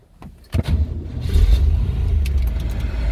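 A 1966 Corvette Roadster engine cranks and catches, then settles into a loud, steady low rumble at close range with no talking.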